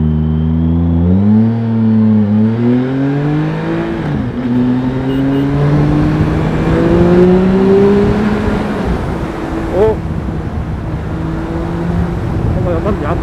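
A Triumph Speed Triple R 1050 motorcycle engine in track mode, a loud close idle rising and falling through throttle blips with a steady low drone, with someone talking over it.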